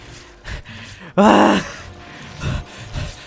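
A single loud, breathy groan or gasp rises briefly amid quieter background sounds, like a voice imitating heavy breathing.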